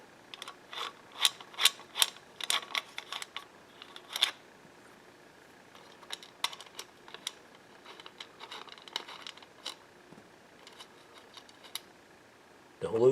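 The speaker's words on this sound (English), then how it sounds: "So we're going to take our Phillips head screwdriver." Phillips head screwdriver turning the screws on a pendant light fixture's bracket, giving faint, scattered ratcheting clicks and metallic ticks in a quiet room, with a sharp noise at the end.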